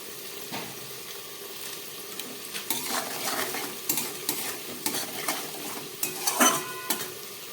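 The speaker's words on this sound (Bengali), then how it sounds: "আলু আর পেঁয়াজটাকে একসঙ্গে ভেজে নিচ্ছি" Potato and onion fry together in a pan with salt and turmeric, a steady sizzle broken by repeated scraping stirs and clinks of a utensil against the pan, close by.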